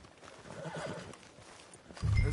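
A horse in the video game Red Dead Redemption 2 whinnies and then clops its hooves close by, with a louder rumbling burst near the end.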